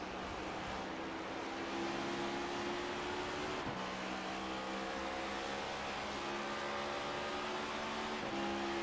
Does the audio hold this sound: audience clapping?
no